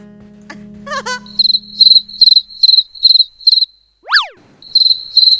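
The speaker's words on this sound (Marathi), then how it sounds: "आहे आहे रातकिडा आहे आहे आहे." A cricket chirps indoors at night in a dark room, a series of loud, close, evenly spaced shrill pulses, with a brief rising squeal and a low hum at the start.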